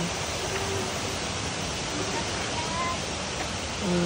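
Madulas Falls in Baybay, Leyte, pouring as a steady, dense rush of falling water that fills the air evenly from start to finish, close and loud with no change.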